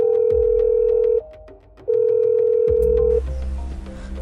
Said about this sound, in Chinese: 把电话拨了过去